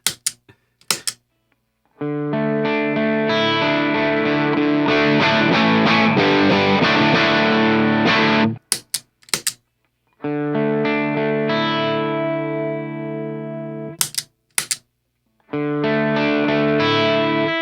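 Electric guitar played through original and newer Nobels ODR-1 overdrive pedals, loud sustained overdriven chords in three separate passages with short pauses and picking noises between them.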